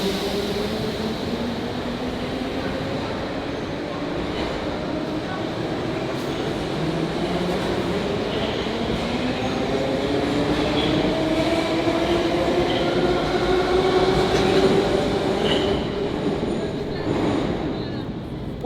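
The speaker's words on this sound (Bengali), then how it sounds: "প্রচুর শব্দ করে এই দেশের মেট্রো।" An electric metro train in Azerbaijan rumbles loudly through a station, a steady roar with rising and falling wheel and motor tones sustained throughout, close and continuous.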